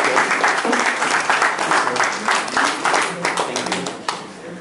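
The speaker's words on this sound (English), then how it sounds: "And a round of applause for Ambrose." Applause from a live audience welcoming a shoemaker to the stage, a brisk burst of many hands clapping with voices mixed in, tapering off near the end.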